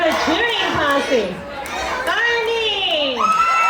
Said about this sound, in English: Give her a cheering posse.